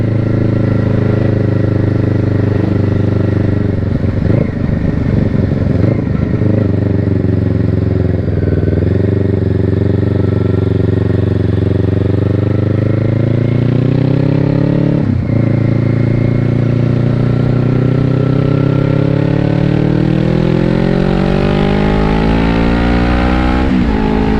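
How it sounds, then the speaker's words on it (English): A 500 motorcycle and a Yamaha R3 on open public roads of the TT course, close and very loud. Engine note holds steady, dips in pitch on brief throttle lifts, then climbs in a long rising rev near the end. "the butchered 500 can do against the little Yamaha R3 as we come barreling towards the hairpin at 30 mile an hour"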